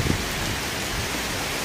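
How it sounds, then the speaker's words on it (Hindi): Heavy rain pours steadily during a Delhi to Mussoorie trip, a dense, loud, even hiss of drops on surfaces with no talk. "काफ़ी तेज बारिश आ रही है।"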